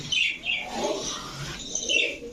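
Soft coos of racing pigeons (Budapest and Kaldam breeds) mixed with brighter bird chirps, fairly close, repeating in short bursts with no talking.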